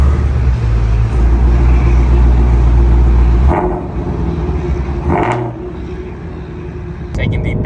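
A Ford Mustang Shelby GT-350 cruises along back roads, its engine a steady low drone with road roar that lightens briefly a few times, as if the car is easing off the throttle.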